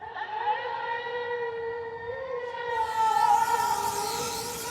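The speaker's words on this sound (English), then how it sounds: "It's the call to prayer, that's the muezzin calling." A muezzin's call to prayer from the Blue Mosque in Istanbul, a long, sustained melodic voice with a rich, siren-like tone that rises and wavers, carrying loudly through the open air with faint background noise.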